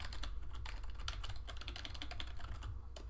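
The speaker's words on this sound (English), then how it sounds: "I need to get into the habit of doing that when I'm typing in German" Steady, rapid typing on a computer keyboard, with dense clicking keystrokes close to the microphone over a low hum, and no voices.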